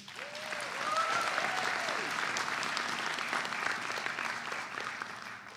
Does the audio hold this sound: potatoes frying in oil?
no